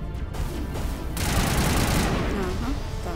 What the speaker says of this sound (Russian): Так, пушка работает или нет?